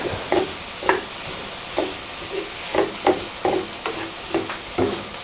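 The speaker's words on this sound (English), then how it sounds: "we're going to saute these a little bit longer and wait for them to get brown" Garlic and onions sautéing in a frying pan for tortilla soup, with a steady sizzle underneath and about a dozen distinct scraping stirs of a spoon or spatula at an irregular beat, close and without talk.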